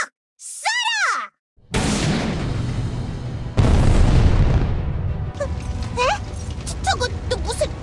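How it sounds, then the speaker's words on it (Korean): Cannon bombardment in a video game story, heavy booming blasts rolling into a loud, sustained rumble, with squeaky cartoonish voice effects before and after. "이 녀석들아! 포격이다!"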